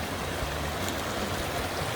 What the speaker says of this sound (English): look at the glacier water